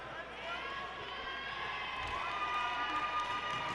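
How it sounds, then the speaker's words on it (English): A college basketball crowd in a men's game between Miles College and Lane College cheers and rises in volume, a steady swelling roar under a commentator's voice. "And the crowd is getting loud."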